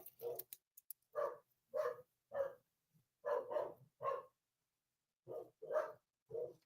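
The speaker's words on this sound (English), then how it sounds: "They're both barking." Two dogs bark in a rough rhythm of single and paired woofs, moderately distant, with pauses between bursts and no talk.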